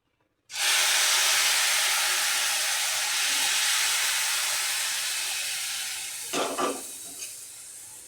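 Hot milk poured into a pan of ghee-roasted, browned vermicelli for sweet kheer gives a loud, steady hiss and sizzle that slowly fades, with a few brief clatters near the end.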